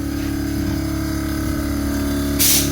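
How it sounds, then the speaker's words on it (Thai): A steady two-cylinder air compressor pump on a commuter van with an aluminium air tank hums continuously with a low, even drone, ending with a brief hiss of released air. "มาฟังเสียงปั๊มครับ"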